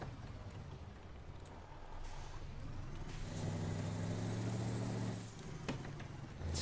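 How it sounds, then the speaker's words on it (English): Iveco 190-38 truck in Euro Truck Simulator 2, with a steady low engine drone that swells into a louder, rising turbo whine and whoosh before easing off, followed by a brief hiss like an air release. "Turbo noise."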